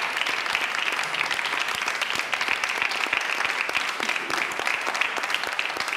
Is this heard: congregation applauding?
yes